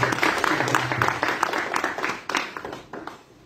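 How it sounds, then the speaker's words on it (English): Applause from an audience at a golf sponsorship launch event, a dense patter of many hands clapping that stays steady and then fades toward the end. "can you please give him a round of applause?"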